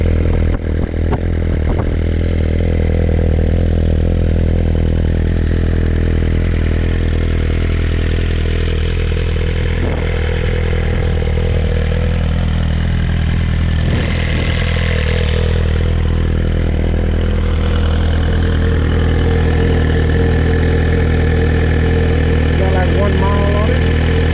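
A new Suzuki GSX-R1000 sport motorcycle idles steadily while warming up in a residential neighborhood, a loud continuous engine drone running the whole time with people talking nearby.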